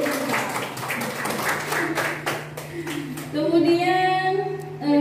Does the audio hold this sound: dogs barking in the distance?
no